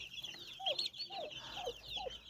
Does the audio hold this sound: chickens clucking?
yes